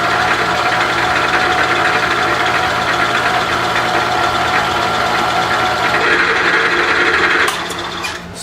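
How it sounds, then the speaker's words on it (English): A Bridgeport milling machine cuts a fixture plate with a 3/4-inch high-speed steel Niagara end mill, giving a steady, loud, continuous whine and hum that runs unbroken for several seconds before easing off slightly near the end. "impressed with this 3/4 end mill. High-speed steel, it's doing the job."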